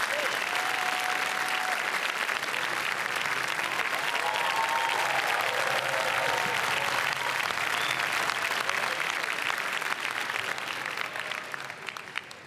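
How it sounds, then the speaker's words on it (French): Audience at the Cannes red carpet tribute applauds loudly and steadily, a dense wash of clapping that holds throughout and fades slightly at the end. "j'aimerais qu'on l'applaudisse également très fort"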